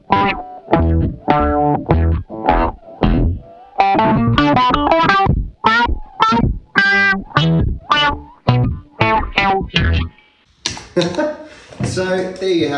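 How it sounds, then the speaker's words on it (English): Electric guitar played through a Danelectro Food Series effects pedalboard with a Dano wire, giving a distorted, chorus-tinged tone with picked notes and short phrases, then a brief noisy burst near the end. "that's my Danelectro food series board featuring a Dano wire just for a bit of fun"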